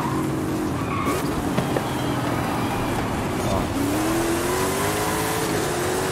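A Hot Wheels car in the video game Forza Horizon 5, engine roaring at high speed with tires squealing through a skid, then revving higher, while a person talks briefly.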